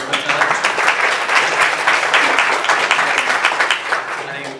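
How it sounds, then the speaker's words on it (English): A breakfast crowd at a National Merit event claps in sustained, even applause, with dense overlapping hand claps filling the room throughout. "Give a big round of applause for Mr. Patel."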